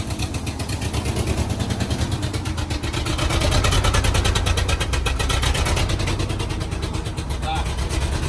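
A 45-year-old Ford F-600 truck engine idles roughly with a misfire, a steady pulsing rumble with uneven beats, close and loud, with talk over it.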